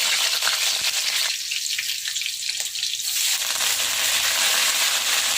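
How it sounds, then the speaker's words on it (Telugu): Whole spices, cinnamon, shahi jeera, bay leaf and green chillies spluttering in hot oil in a pan, a loud, dense, continuous sizzle close by that briefly dips midway before surging again, with no voices. "ఇంట్లో 2 దాల్చిన చెక్క, సాజీరా వేసుకుందామండి. అదేవిధంగా బిర్యానీ ఆకు, కొన్ని పచ్చిమిర్చి,"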